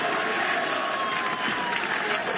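Home crowd at an Oklahoma Sooners college football game in Norman, a dense, steady stadium roar of cheering and applause that holds at a constant level throughout, with no single voice standing out.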